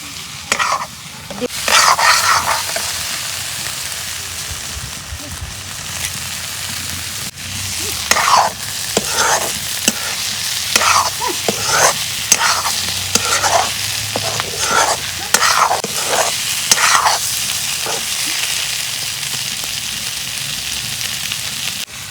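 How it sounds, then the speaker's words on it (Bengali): Onions sizzle and fry in a pan on a clay stove with repeated stirring scrapes in an uneven rhythm, close up; a dog barks faintly in the background. "পেঁয়াজটা ভাজা ভাজা হয়"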